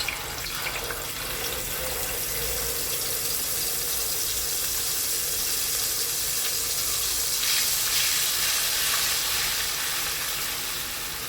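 Ground paste of tomato, onion, ginger, green chili and cashew sizzles steadily in hot oil in a pan while cooking a cauliflower kofta curry, a constant broadband hiss with no one speaking.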